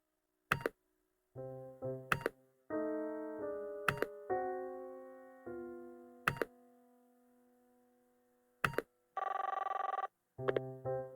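In the video game Nine Noir Lives, a telephone rings amid a sequence of synthetic tones, sharp clicks and buzzy electronic beeps, all clean and close with no talking.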